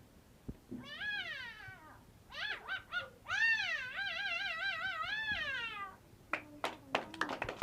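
A voice imitates a cat, giving a series of drawn-out, wavering meows one after another, followed by a few sharp claps.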